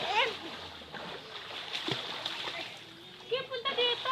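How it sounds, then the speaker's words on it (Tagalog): Water splashes and sloshes as people bathe in a river, with scattered nearby splashes under and between voices talking and calling out, including bursts of livelier splashing near the end. "naliligo po tayo sa ilog"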